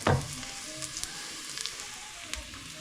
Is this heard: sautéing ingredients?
yes